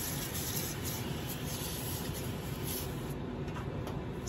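Steady hissing spray of duck fat from a sprayer onto a brisket smoking at a barbecue competition, continuous and close for the whole stretch.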